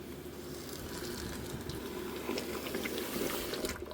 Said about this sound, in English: Now I'm going to stir the sugar in.